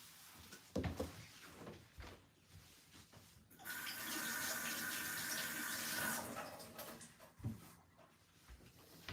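Soapy water running from a kitchen tap onto a countertop during cleanup while cooking Egyptian green beans (fasolya), a steady hiss of a few seconds with soft clatter and handling noises before and after.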